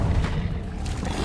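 A short, loud burst of fire from the Incendio spell cast in Hogwarts Legacy, a dense rushing whoosh that fills the moment on its own.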